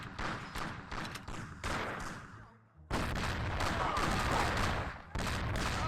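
Gunfire in Mafia: The City of Lost Heaven, a rapid string of loud close gunshots with a brief pause, then a sustained volley of shots, sharp and dense, with faint game sound between.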